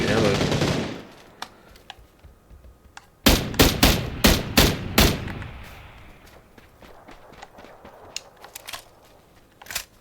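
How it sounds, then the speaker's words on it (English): Gunfire in the battle game PUBG: a tight burst of about six loud shots in rapid succession, then scattered fainter single cracks, with a sharp noise at the very start and quiet stretches between. "I was hearing a good bit of shots"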